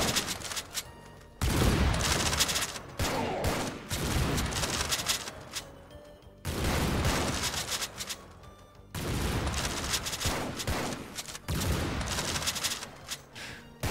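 Sniper towers in Tower Defense Simulator fire at enemies in a dense, loud barrage of overlapping gunshots and booms, with rapid bursts separated by short gaps and no talking.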